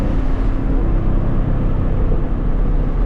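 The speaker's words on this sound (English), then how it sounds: "Give her a nice little downshift into third." A 2024 Ford Mustang Dark Horse's engine roars loudly from the cabin while driving, a dense continuous rumble with slight rises in pitch as it downshifts into third gear.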